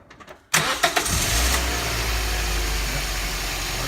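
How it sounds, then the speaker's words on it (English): A 2006 Scion xA with a 1.5-liter Toyota variable valve timing engine, 146,000 miles, freshly fitted with new spark plugs, cranks with a few quick starter pulses, catches, and settles into a smooth, steady idle close by. "We're now starting the car."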